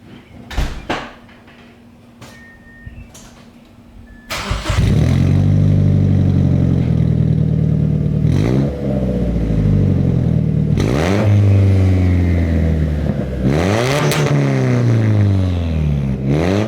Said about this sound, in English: I'll give you guys a few revs and hopefully you guys like the sound of it